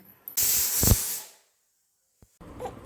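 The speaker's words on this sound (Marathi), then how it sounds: "शिट्ट्यांच्या आवाजाने काना पण उठून गेलाय आता" A pressure cooker whistle vents steam in a loud hiss lasting about a second, then tails off into quiet, followed by faint kitchen sounds.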